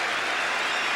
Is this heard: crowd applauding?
yes